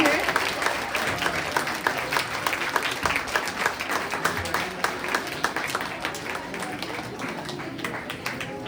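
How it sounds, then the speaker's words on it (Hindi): A loud, sustained round of applause from an audience at a welcome ceremony, with dense overlapping claps running steadily throughout. "एक बार जोरदार ताली"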